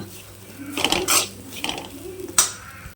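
Grated coconut roasting in a pan while being stirred, with clinking metal spoon scrapes and taps against the pan over a low background hum, no voices.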